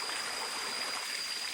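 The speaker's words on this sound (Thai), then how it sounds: "ฟังเสียงน้ำไหลพี่หน่อยเนาะ" Water flowing in a rocky valley stream, a steady close rushing wash with no breaks and no voices.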